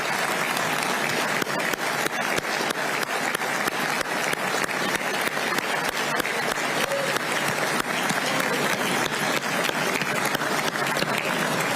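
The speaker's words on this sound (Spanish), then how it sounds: "por favor les pido que recibamos con un gran aplauso a nuestra selección femenina de vóley de playa" Sustained, dense applause from an audience in the Paraguayan Congress, greeting the women's beach volleyball team, a steady roar of many hands clapping at an even level throughout with no break.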